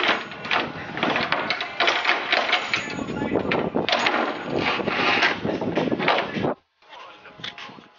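Homemade splitter being worked off a car bumper, a close run of scraping, creaking and clattering plastic-on-metal noises lasting about six seconds, then a short pause and a few fainter scrapes.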